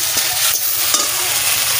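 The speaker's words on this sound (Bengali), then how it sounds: "আমি একটু পেঁয়াজটা দিচ্ছি, তাই একটু পেঁয়াজটা একটু ভেজে নিচ্ছি, বেশি ভাজবো না।" Onions frying with roasted spices while Tilapia fish curry is being made, making a loud, dense, steady sizzle with stirring scrapes and no talking.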